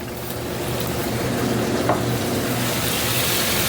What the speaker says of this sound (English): Hear that nice sizzle in the wine.